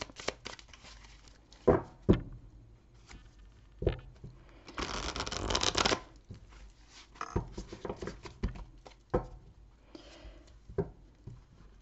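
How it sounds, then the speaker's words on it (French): A deck of tarot cards is cut and shuffled close by, with scattered soft taps and slides and a longer riffling burst in the middle, heard alone and fairly quiet. "Allez, on y va avec le tarot. Alors, on va faire la coupe déjà."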